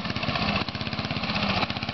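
A small engine on a homemade vehicle runs at its first start, a steady close mid-pitched putter with rapid regular firing pulses and a slight vibrating rattle, loud and alone.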